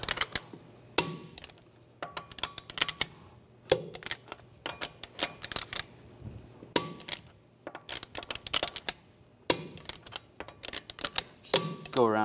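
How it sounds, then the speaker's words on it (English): A torque wrench clicking as lug nuts on a 2007–2013 Mini Cooper front wheel are tightened in a cross pattern: sharp, close mechanical clicks and ratcheting in scattered bursts with short pauses between, no talking. "Now I'm going to torque the lug nuts to 110 foot-pounds in a cross pattern to tighten the wheel down"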